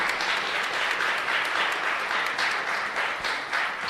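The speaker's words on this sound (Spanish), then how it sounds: "Un fuerte aplauso a Mirta." Church congregation applauding during a live-streamed Mass at a parish in Laguna Grande, a loud, dense, sustained round of clapping from many hands filling the space without talk over it.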